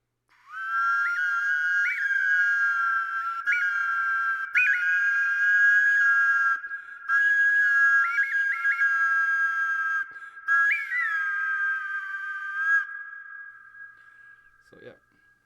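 Clay whistle of ancient Aztec or Mayan style with two side air openings, blown in long steady high tones with short pitch bends as holes are covered, close and clear, with a brief faint sound near the end.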